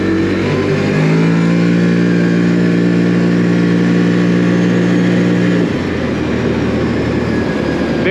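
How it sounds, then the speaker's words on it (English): A CFMOTO Cforce 800 Touring ATV engine revs very high and holds near its limit, a loud droning whine that shifts tone partway through, with no talk over it. "Very high revving engine."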